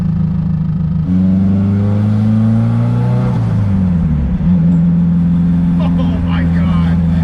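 An SR20-engined car with a freshly installed HKS wastegate set around 10 to 12 PSI accelerates hard, its engine note rising steadily through the revs with a shift midway, loud and close inside the cabin while voices talk over it.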